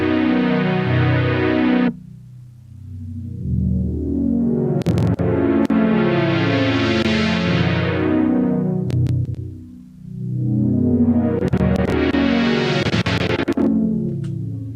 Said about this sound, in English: when I turn my second knob, I can adjust that cutoff